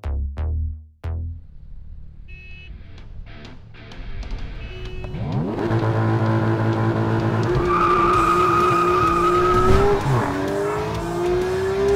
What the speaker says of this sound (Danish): Kan du ikke slukke den lorte motor?